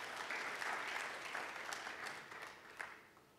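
A church congregation claps in a continuous, fairly distant patter that slowly thins out toward the end.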